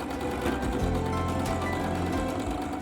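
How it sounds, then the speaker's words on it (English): A sewing machine runs continuously in a steady fast whirring rattle, stitching white thread around the edge of a felt keyring, loud and close with no voices. "Then stitch around the edge using white thread."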